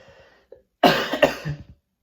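A single burst of coughing, close and fairly loud, with a couple of rough follow-up hacks, preceded by a small throat sound.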